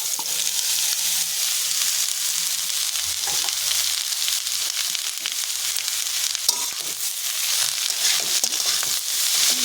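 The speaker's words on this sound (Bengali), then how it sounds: "তেজপাতাটা ভাজা ভাজা হয়ে গিয়েছে, এবার আমি এখানে দিয়ে দেব কুচানো লাউ" Chopped bottle gourd hits a pan of fried bay leaf and sizzles loudly, a dense, steady crackling hiss that runs throughout.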